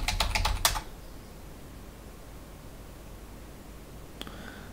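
A short burst of rapid computer keyboard typing, a password keyed in, clicks close and fairly loud for under a second, then near silence with one faint tap near the end.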